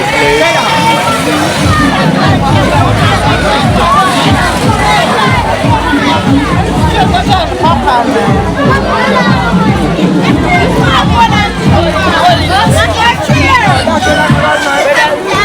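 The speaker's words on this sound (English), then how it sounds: "Guys, we have a packed crowd here today." Packed crowd at a back-to-school treat giveaway, loud continuous babble of many voices with children shouting and nearby talk layered over the din for the whole stretch.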